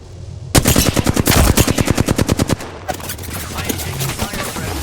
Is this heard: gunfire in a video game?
yes